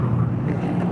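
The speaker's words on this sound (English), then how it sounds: "Oh, good gust there." A short outdoor gust of wind buffets the microphone at a roadside flag-waving gathering, a brief low rumble with a rushing swell.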